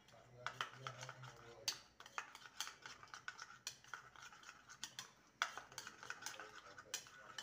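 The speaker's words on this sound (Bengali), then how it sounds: "এবার মশলাটাকে ভালো মতন গুলে নেব" A spoon stirs a spice mix with yogurt in a bowl, giving soft irregular scrapes and clinks against the bowl with no talk over them.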